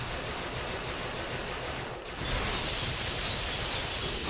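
Dense, continuous blasts of energy weapon fire fill the space in the Star Trek Online game as a guard is shot. The sound is loud and steady, with a brief dip near the middle, and no voices.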